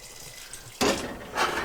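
Hot water poured into a pot over a whole cut-up chicken for soup, a steady splashing pour that starts abruptly and swells again toward the end, close and fairly loud.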